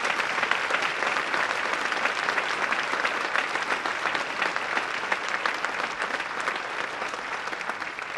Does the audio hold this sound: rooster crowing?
no